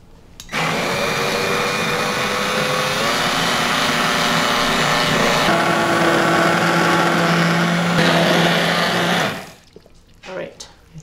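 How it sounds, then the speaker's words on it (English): An immersion blender purees leek and potato soup in an Instant Pot, a loud steady whirring drone that runs for about nine seconds before cutting off, followed by a few quiet knocks. "All right, we're gonna blend this up first."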